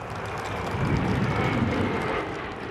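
An F-16 fighter jet of Taiwan's air force flies by with a dense, steady, roaring engine rush that stays loud and unbroken throughout, with no voices.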